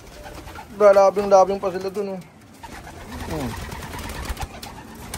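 Racing pigeons cooing in a short rhythmic burst of throaty calls, close and clear, followed by more scattered bird sounds while a person talks quietly nearby.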